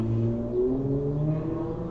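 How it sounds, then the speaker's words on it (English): A vehicle engine revving out on the road outside, a steady mid-pitched drone with rising and falling tones, heard at moderate distance over about two seconds with no talking. "I have people revving their engines, riding motorcycles up and down the road"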